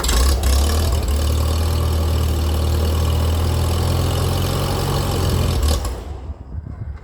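Antique International Harvester tractor engine idling during warm-up, a steady low throbbing rumble up close for about six seconds before it suddenly drops away to quiet.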